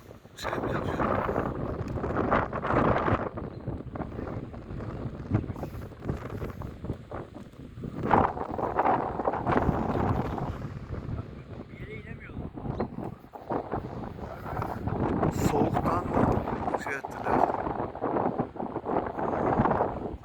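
Wind rushes and buffets the microphone in uneven gusts while voices talk faintly underneath.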